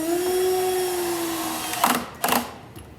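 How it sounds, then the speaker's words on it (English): A power drill drives a screw into a drawer slide, giving two short whirring bursts near the end after a steady mechanical hum. "then I put a screw in back here"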